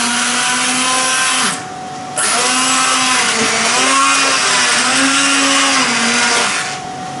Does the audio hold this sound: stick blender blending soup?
yes